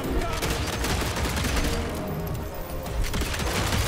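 Dense, rapid gunfire rattles almost nonstop in a Wild West shooter video game, heard as a continuous loud barrage of shots.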